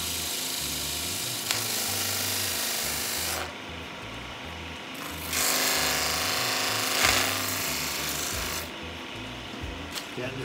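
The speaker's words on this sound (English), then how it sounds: "We've done most of the sanding, so this is just kind of a polishing." Power tool polishing wood after sanding, a steady abrasive rasping whir that shifts in pitch and intensity as it works, pausing and resuming in close, loud passes.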